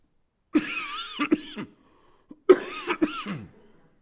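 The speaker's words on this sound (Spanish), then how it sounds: "Esta tos no se me puede ir todavía." A preacher with a persistent cough hacks in two harsh, close bursts, each a cluster of rough coughs with throat clearing, separated by a brief pause.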